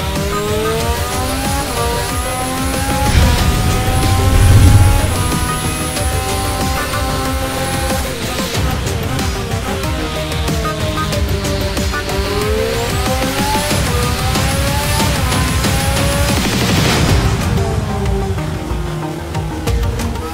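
A Formula 1 turbo hybrid car screams at full revs, a loud, high-pitched engine note that climbs through repeated gear shifts and passes close by.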